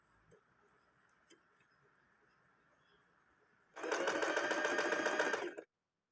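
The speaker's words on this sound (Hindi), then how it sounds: "जिगजैग सिलाई लगाने के बाद नीचे की साइड हमें सीधी सिलाई लगाना है।" An Usha sewing machine runs a straight stitch with the zigzag width set to zero. After quiet room background, a loud, steady whirring burst of stitching lasts about two seconds and then stops abruptly.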